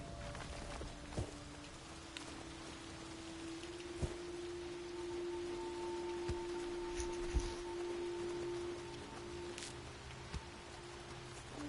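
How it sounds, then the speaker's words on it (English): Rain falling in the Gord video game, a steady soft hiss of patter with a low drone and a few scattered thuds over it, never loud. "It really just started raining to turn the the campfire off"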